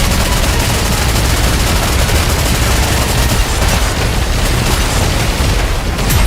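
A loud, sustained gunfire volley in the video game Nikke, a dense roar of rapid shots and booms filling the whole stretch without pause.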